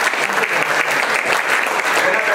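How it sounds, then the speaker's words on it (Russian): An audience at a centenary celebration in Cheboksary gives brief, dense applause, loud and close, filling the moment without letup. "Аплодисменты Данилу Садкову."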